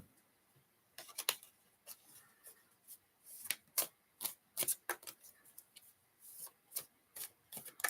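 Tarot cards being shuffled in quick, irregular riffling bursts, close and crisp, with short pauses between, no talking.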